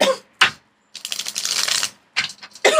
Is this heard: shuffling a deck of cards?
yes